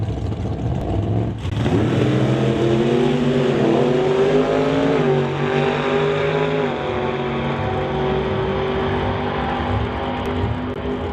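A Pontiac Firebird door-slammer drag car at a Canada West racetrack accelerates hard, its loud engine roaring and climbing in pitch through rising harmonics for several seconds, staying close and continuous with no talk.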